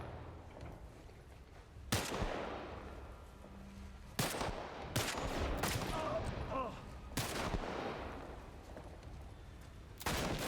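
Enemy gunfire in The Last of Us Part 1, several sharp, loud gunshots spaced a second or two apart, some in quick pairs, over a quiet background with faint sounds between the shots.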